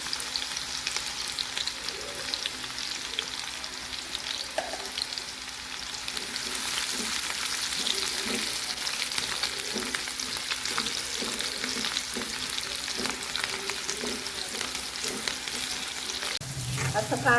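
Onions fry in oil until reddish, giving a soft, steady sizzle with scraping stirs underneath, close and continuous, a faint clatter at the end.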